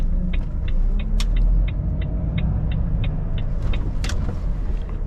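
A semi-trailer truck maneuvers slowly into a delivery area, its engine a low steady rumble close by, with a regular series of short beeps and a brief hiss on top.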